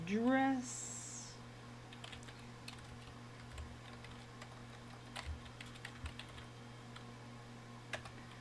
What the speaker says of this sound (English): I'll type in my email address.